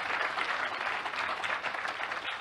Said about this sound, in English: A round of applause for that discovery.